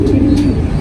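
A pigeon coos from a rooftop: one close, loud, low throaty call with no other sounds around it.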